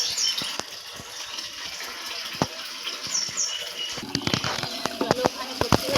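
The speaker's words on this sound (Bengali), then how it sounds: "এটা আমি ভর্তি করে নিই, তাহলেই হয়ে যাবে" Water from a tap filling buckets and bottles in a West Bengal village home, a steady splashing gush close by with clattering knocks of containers, while someone speaks over it.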